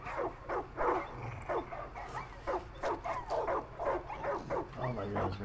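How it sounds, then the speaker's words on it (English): Several dogs in Far Cry 5 bark and yip in quick, overlapping bursts at close range, a chaotic pack crowding together, with occasional voices mixed in among the barking. "They're just dogs. They're just running into me."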